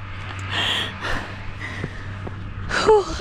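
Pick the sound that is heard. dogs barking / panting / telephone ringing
panting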